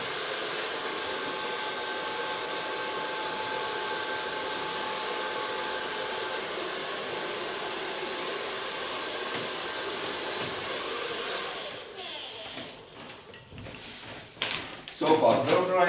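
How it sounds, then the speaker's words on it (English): A hair dryer blows steadily on short, multi-colored dyed hair, a loud continuous airy roar for about eleven seconds before it cuts off, followed by handling clatter and brief talking. "Now I'm going to dry this."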